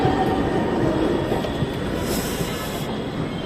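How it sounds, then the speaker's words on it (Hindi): A metro train pulls out of a station in Lucknow, producing a loud, steady rumble with hissing wheel noise that swells briefly midway. No one speaks. "तो ये मेट्रो तो चली गई।"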